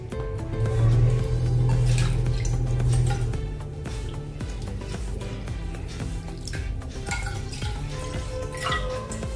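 Water pours steadily into a metal pan, a continuous splashing and trickling with occasional drips and clinks, no talking.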